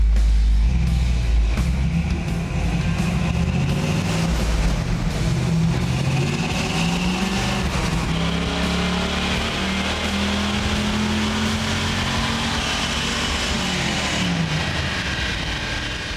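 A 1969 Chevrolet Camaro engine, high mileage, revving on a dynamometer during a full-throttle pull: a loud, steady engine roar that climbs smoothly in pitch for about sixteen seconds before easing off slightly at the end.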